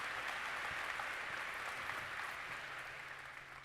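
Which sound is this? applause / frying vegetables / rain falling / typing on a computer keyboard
applause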